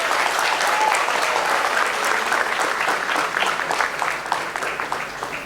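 Audience applause at a school quiz competition, a steady wash of many hands clapping together, dense and sustained throughout at fairly close range with no pauses.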